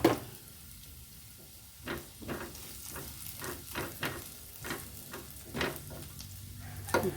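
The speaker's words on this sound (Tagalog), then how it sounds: "Hulog na natin yung ating marinated na pork." Marinated pork frying in a pan with garlic browned a little beforehand, a steady sizzle with sharper spatters and the clatter of stirring at intervals. No one speaks.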